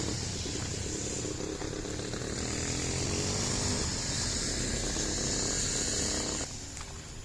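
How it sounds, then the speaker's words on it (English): Gas-powered weed whip cutting a yard in Santa Elena, a steady high buzzing engine drone running continuously before easing off slightly near the end. "Most of the yard cutting is done with weed whip."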